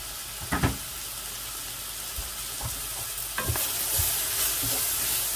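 Garlic fries in a pan as the base of a mushroom and prosciutto cream sauce, a steady close sizzle broken by scraping, knocking stirs of a utensil against the pan.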